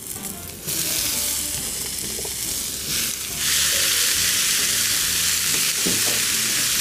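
Sliced chayote fries with thyme in a hot pan, giving a loud, steady, close sizzle and crackle that swells slightly partway through, with no talking.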